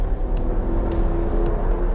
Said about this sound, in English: We are pulling onto the pit lane for our first real session